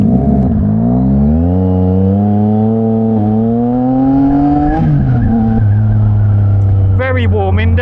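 A Yamaha MT-09 motorcycle fitted with a Mivv X-M50 exhaust runs close by near a marina, its loud, buzzy engine note climbing steadily in pitch, then dipping and settling into a strong, even drone.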